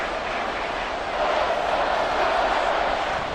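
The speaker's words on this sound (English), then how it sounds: "the crowd getting into it as we come up on a big 3rd down" A stadium crowd in the video game Madden, at a football match between the Raiders and the Lions, roars in a dense, steady wash that swells slightly partway through and stays loud and continuous.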